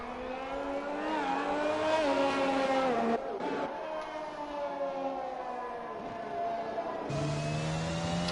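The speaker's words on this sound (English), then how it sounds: "So we've just got a McLaren who's crossed the line." In a racing video game, a McLaren race car's engine screams as it crosses the finish line on a French circuit. The loud, high, sustained whine shifts in pitch as the revs rise and drop, then cuts off briefly before resuming.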